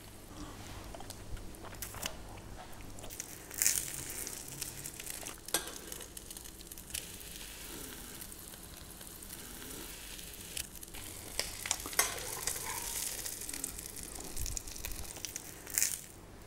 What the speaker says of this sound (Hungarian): És sülhet is.